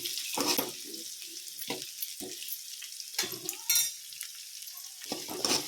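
Onions frying in a pan for avalakki upkari, a steady crackling sizzle broken by repeated scraping stirs of a spatula, close and fairly loud, no speech.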